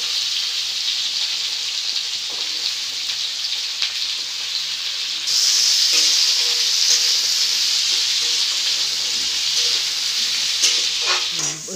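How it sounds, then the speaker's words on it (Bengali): Vegetables frying in oil in a pan, with whole five-spice seeds and a dried red chilli, sizzle in a steady, close hiss that swells louder partway through as more goes in, with faint stirring scrapes near the end. "সবজিগুলো ভাজা ভাজা করব।"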